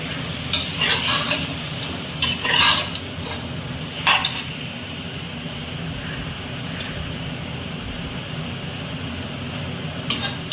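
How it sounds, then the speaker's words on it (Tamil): Mutton pieces sautéing with salt in a hot pan for a Tamil mutton kulambu, a steady sizzle with repeated scraping and stirring bursts, clinking against the pan, close and alone. "உங்களுக்கு தேவையான அளவு உப்பு போட்டு வதக்கி விடுங்க."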